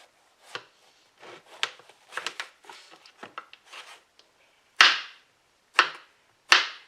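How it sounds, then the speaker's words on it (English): A knife cuts summer squash on a board in a run of quick, irregular light chops, followed by three loud, spaced, decisive cuts near the end. "I have a summer squash here that I need to use up. So I'm going to cut that up."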